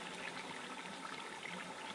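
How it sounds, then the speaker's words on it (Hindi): Water from a jug pours steadily into a cooking pot for a traditional D.I. Khan dish, a continuous full splashing gush with no pause and no voices. "अभी हम इसके अंदर पानी ऐड करेंगे।"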